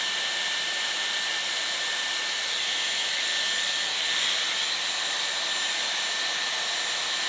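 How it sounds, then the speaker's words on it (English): A Dyson Airwrap hair styler blows air on its hot setting, a steady, loud, close rush of airflow with a faint high whine that holds unchanged for about seven seconds, with no talking. "then turn on the Airwrap"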